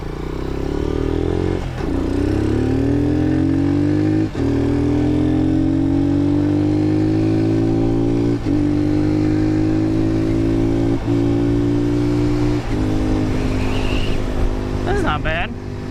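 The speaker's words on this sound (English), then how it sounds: "we are out on a different motorcycle. This is a 150." A Lifan KP 150cc Chinese mini motorcycle engine drones steadily and close as it is ridden, its pitch climbing and dipping through gear changes with brief breaks between shifts, and a voice speaks near the end.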